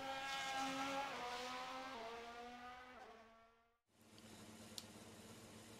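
An RSS Formula Hybrid 2022 race car in a racing video game, its engine screaming high and climbing through gear shifts, then dropping off briefly before a lower idle-like drone resumes, loud and close with no talking.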